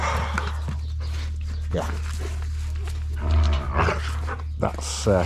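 Loki and Dover, two dogs, play nearby with growls, grumbles and rough yelps, while a person talks over them and low steady rumble runs underneath.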